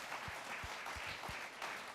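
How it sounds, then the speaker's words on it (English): Audience applause at a talk on America's world role and the Iran nuclear deal: steady broadband clapping and a crowd wash fill the two seconds without any pause, at moderate loudness. "Not many places you get rounds of applause for the Iran nuclear deal."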